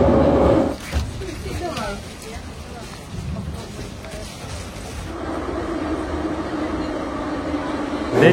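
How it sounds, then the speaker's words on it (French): Kyiv metro train running, very loud: a broad roaring rumble with hiss and rattling, steady throughout and swelling louder in the second half, with no speech audible over it. "on vient de sortir du métro, vous l'entendez, il est archi bruyant"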